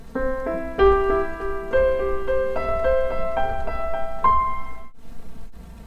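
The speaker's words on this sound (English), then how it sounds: "You can play any major triad as an arpeggio." Piano notes ring out one after another in rising broken-chord patterns of a major triad arpeggio, sustaining and overlapping, then fade to quiet near the end.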